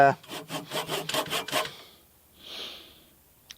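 A metal rafter for a Conex shipping container is sawn through in a quick run of rhythmic strokes, close and moderately loud, then a brief scrape and a small knock.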